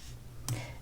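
One crisp computer mouse click, a single sharp tick set against a faint background hum.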